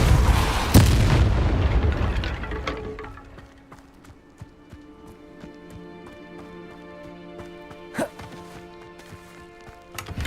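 A Depulso spell lands in Hogwarts Legacy with a loud, deep blast at the start, then fades into a low rumble, with one sharper hit near the end.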